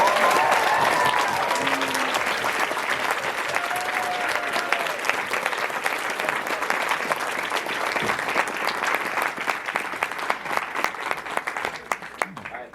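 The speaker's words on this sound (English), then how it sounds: "can we just get one last round of applause for this wonderful..." Sustained round of audience applause in a church after a youth stage production of The Lion, the Witch, and the Wardrobe, loud and steady with many hands clapping and a few voices faintly calling out at the start.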